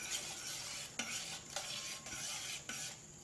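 Ingredients with squeezed lemon juice are stirred together in a bowl for potato chips, a faint, soft swishing with about five light strokes knocking against the bowl.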